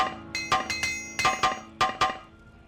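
Sharp metallic clinks and clangs from an Apprentice Armorer's Hammer repairing gear in Morrowind, about eight ringing strikes in an uneven rhythm, each with a short bright decay, with no talking.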